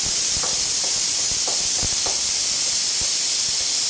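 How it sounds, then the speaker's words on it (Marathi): A pressure cooker whistle releasing steam while green moong dal cooks, a loud continuous hiss of escaping steam filling the clip, with faint irregular knocks underneath. "तर मस्तपैकी आपल्या शिट्ट्या पण झाल्या ते दोन या आधी एक झाली आणि आता झाली"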